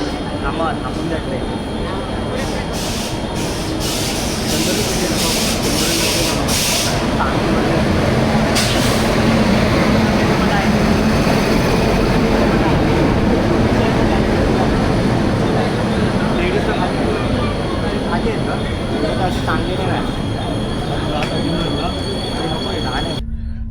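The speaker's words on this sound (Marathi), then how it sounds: "तर मित्रांनो, आता फायनली ठाण्यावरनं सुटलो आहे." Mandavi Express pulling out of platform 8 at Thane station on the Konkan Railway route to Kudal: a steady, loud rolling rumble and rattle fills the whole stretch, with indistinct voices murmuring in the background.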